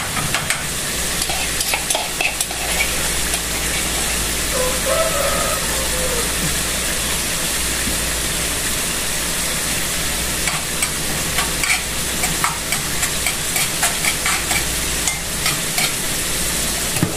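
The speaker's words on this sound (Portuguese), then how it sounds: "a minha costelinha eu gosto de ir fritando e pingando um pouquinho de água" Steady, dense sizzling of pork ribs frying in a pan with a little water dripped in, with occasional crackles and pops over a constant low hum.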